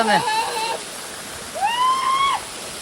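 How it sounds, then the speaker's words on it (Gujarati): A waterfall stream flows with a steady, broad rushing hiss beneath a voice that talks over it. "આઈને તમે ઝરણા જોઈ લો"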